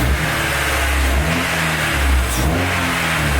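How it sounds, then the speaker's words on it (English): A Honda Civic EK engine revs through a newly fitted aftermarket exhaust, rising and falling in pitch with a throaty, continuous drone, loud and close, with no speech over it. "Now let's give it a little rev."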